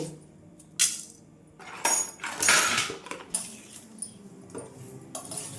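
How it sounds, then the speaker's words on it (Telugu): Watermelon seeds dry-roasting in a pan, with intermittent bursts of sharp crackling and rattling scattered over a few seconds, close and moderately loud. "పుచ్చగింజలు ఇలా చిట్టపటా అని సౌండ్ వచ్చాక ఆపేసుకోవాలి"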